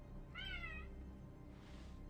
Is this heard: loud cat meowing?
yes